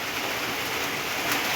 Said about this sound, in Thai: ภาพบรรยากาศคอกหมูระหว่างที่ฝนตก